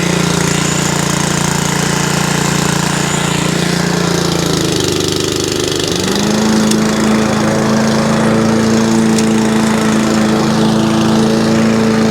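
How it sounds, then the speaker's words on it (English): A lawn mower runs loudly and close, its engine holding a steady drone that dips briefly midway and then settles back at a slightly higher pitch, with no talk. "time to get on the mowing"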